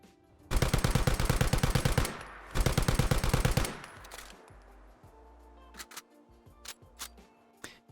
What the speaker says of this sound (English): I'll go ahead and let this thing fire and reload so you can look at it and hear it for yourself